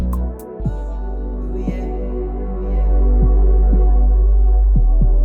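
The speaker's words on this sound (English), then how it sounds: "I'm then adding this really subby bass." A deep, subby bass layer in a beat built from three sounds: a loud, sustained low rumble swelling stronger midway, with faint percussive ticks and thin tones pulsing on top.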